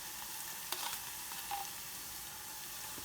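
Chopped tomatoes fry with softened onions in a pan for a budget chicken and pepper curry, giving a soft, steady sizzle with a couple of faint clicks from the utensil.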